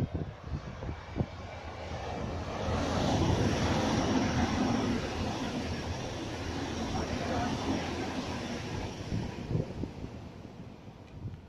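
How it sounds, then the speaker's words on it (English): A Waratah electric train passes on the up main line at a suburban station in the evening peak, its rumble swelling from a quiet start to a steady roar mid-pass and then easing off, with wind buffeting the microphone. "We have a Waratah passing on the up main"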